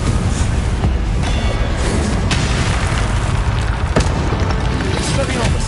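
Confringo blasting spell explosions in the video game Hogwarts Legacy, loud booming bursts over a dense, roaring battle soundscape, with a couple of sharper cracks standing out.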